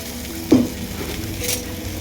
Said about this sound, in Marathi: ही पात आपल्याला कडक परतून घ्यायची आहे